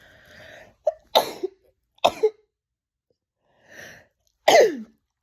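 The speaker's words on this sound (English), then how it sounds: "I'm sorry, I don't know why I sneezed" A few close sneezes and coughs in quick bursts, separated by short silences and soft breaths.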